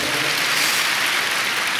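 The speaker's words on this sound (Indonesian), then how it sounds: "Berikan tepuk tangan kita untuk Tuhan kita" A church congregation claps together during a sermon, a dense, steady wash of applause that holds at full strength throughout the short stretch.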